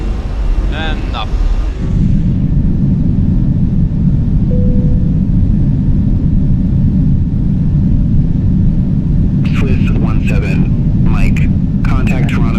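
Airbus A320 jet engines roaring on takeoff in Microsoft Flight Simulator 2024, a steady, loud low rumble filling the whole stretch, with brief talk near the start and again toward the end.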